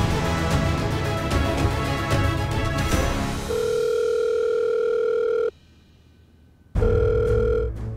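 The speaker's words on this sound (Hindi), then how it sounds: "मैं अयान को सबके सामने फोन करता हूं।" A telephone ringback tone sounds two long electronic beeps separated by a short silence, following a burst of loud, noisy sound.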